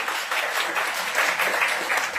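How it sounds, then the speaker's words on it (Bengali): Seminar audience for Michael Madhusudan Dutt's birth bicentenary applauding a speaker, a dense, even patter of many hands clapping together for a couple of seconds with no voice over it. "একটা জোরে হাততালি হোক"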